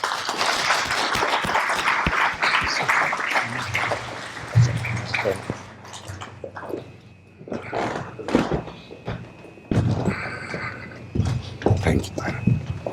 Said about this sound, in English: Let's put a round of applause for Krassimir Kiriakov.